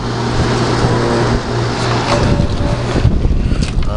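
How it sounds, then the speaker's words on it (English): A Tecumseh pancake reciprocating compressor in an air conditioner runs with a steady low hum and broad whooshing noise, loud and continuous, with some rattling bumps near the end. "Very quiet compressor. It's a Tecumseh pancake, which of course is a reciprocating compressor"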